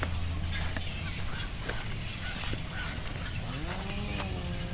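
Birds calling at Bird Island in Chiang Mai: a dense chorus of honking, goose- and duck-like calls over continuous outdoor background noise, some calls near and others farther off.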